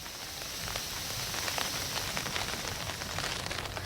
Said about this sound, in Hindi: अभी रिमझिम बारिश हो रही है